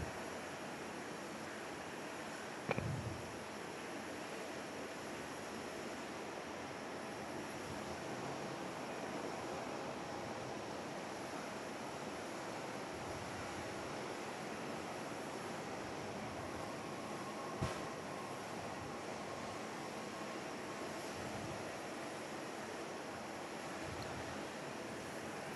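A fixed-wing airliner arrives on runway 24 at Perth Airport, heard as a steady, distant broadband engine roar lasting throughout, with two brief faint knocks nearby.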